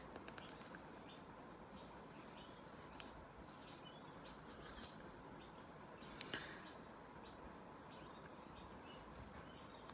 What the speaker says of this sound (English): as you can hear, the birds are tweeting nicely in the background